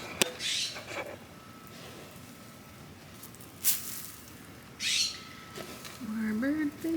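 Wild birds call intermittently near bird food scattered on the ground after an ice storm, with short bright chirps and calls over quiet outdoor background and some handling noise.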